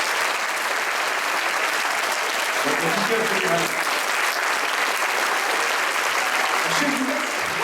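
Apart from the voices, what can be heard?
audience applause in church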